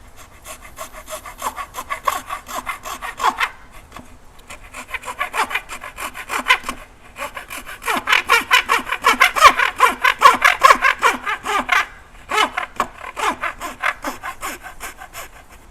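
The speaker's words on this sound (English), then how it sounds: "18 TPI blade, and it's going to work for most of the dovetail cutting that you're looking for" A hand saw with an 18 TPI blade cuts wooden dovetails in steady, rhythmic strokes, loud and close, with a few short pauses between bursts of sawing.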